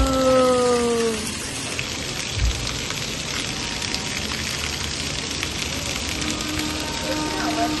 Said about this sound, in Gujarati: વરસાદ છે ને હજુ ચાલુ છે